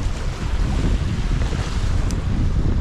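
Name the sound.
wind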